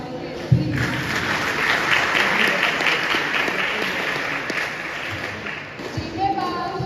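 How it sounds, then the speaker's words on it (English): An audience applauds after a student cybersecurity club presentation, giving steady, dense clapping that swells after a sharp opening and holds for several seconds before tapering off, with faint talk near the end. "A round of applause, please."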